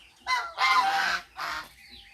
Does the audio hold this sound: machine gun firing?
no